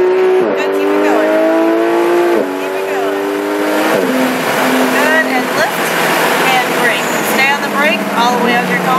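A 2015 Porsche 911 GT3 accelerates on a track, its engine note climbing through rising revs with shifts, loud and close, while an instructor talks over it throughout.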